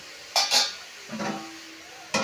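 A lid set down on a cooking pot while making carrot barfi, heard as two close metallic clatters, a softer scrape, and a final clink.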